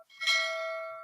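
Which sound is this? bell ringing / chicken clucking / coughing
bell ringing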